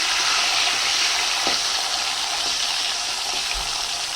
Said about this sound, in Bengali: আলুগুলোকে একটুখানি নুন হলুদ দিয়ে ভেজে নেব